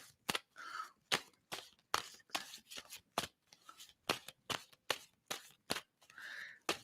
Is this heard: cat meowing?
no